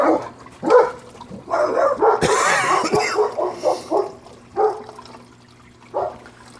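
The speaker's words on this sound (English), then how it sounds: "the dog is barking" A dog barks repeatedly nearby in short, loud bursts, with a brief rushing noise partway through.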